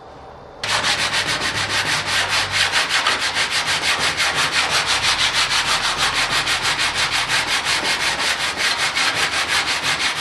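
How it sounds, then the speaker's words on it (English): Steady, loud hand sanding with 80 grit sandpaper on the hull of a small home-built sailboat, a continuous rhythmic scrubbing of even back-and-forth strokes with no talk over it. "I'm working them down by hand with the 80 grit."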